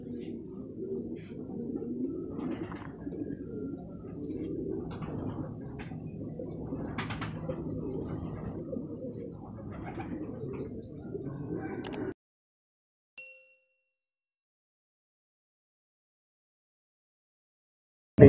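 Soft, low cooing from many pigeons at a bird market carries on steadily for about twelve seconds amid faint market chatter, then falls silent.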